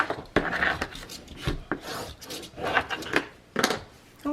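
Paper folds for an accordion binding are burnished with repeated close, dry rubbing strokes, a series of short scraping swipes in an irregular rhythm and no talk.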